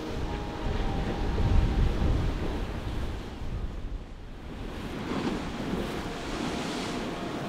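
Ocean waves surge into the Devils Churn chasm on the Oregon coast, a broad rushing roar swelling and easing as water moves in and out, mixed with wind buffeting.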